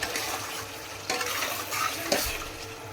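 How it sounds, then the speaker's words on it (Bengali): Meat being stir-fried in a pan gives a steady close sizzle, with spatula scrapes and stirring bursts recurring over a few seconds and no talking. "এখানে আমার মাংস কষানো"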